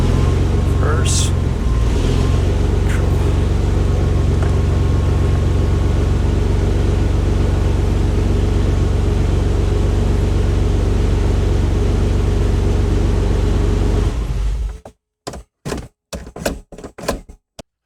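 A Chevrolet S10 truck with a transmission that won't go into park idles close by in a steady, loud rumble for about fourteen seconds, then cuts off, followed by a few scattered clunks and knocks.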